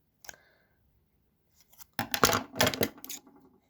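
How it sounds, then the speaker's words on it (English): A piece of pencil is cut to size with snipping, crunching cuts: a faint click, then two loud bursts of cutting close up, followed by quieter scraping. "Cut a piece of pencil to be the right size"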